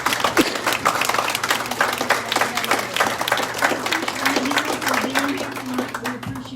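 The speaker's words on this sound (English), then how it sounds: "Let's give all of our candidates a round of applause." Applause for the candidates at a Republican candidate forum, a modest crowd clapping in a lively, uneven patter with distinct individual claps, while a voice talks briefly underneath.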